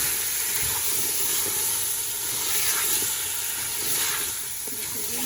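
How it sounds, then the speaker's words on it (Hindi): Potatoes tossed and stirred into hot spices in a pan for aloo bhujiya, giving a steady, close sizzle and hiss with soft scraping of the stirring, and no voice. "चलिए अब इसमें ऐड कर लेते हैं आलू। इनको मिक्स कर लें।"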